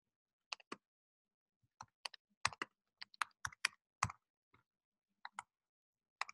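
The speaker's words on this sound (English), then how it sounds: "typing is always an issue with me." Bursts of keystrokes on a computer keyboard during a hands-on next-generation sequencing lab session, clicking in irregular quick clusters with short pauses, close and fairly quiet, with no talk over them.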